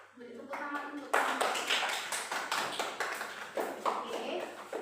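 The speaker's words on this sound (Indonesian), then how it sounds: "Beri tepuk tangan untuk" Applause from a classroom audience during a maths lesson: a brief spoken moment, then a run of quick, sharp group claps with an even, lively rhythm that lasts several seconds.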